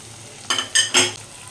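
Turmeric, chili powder, garam masala and sugar fry in a pan with a splash of water for jackfruit kofta curry, heard as three quick scraping stirs over a soft, steady sizzle.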